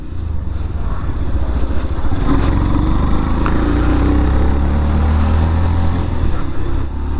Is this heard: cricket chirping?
no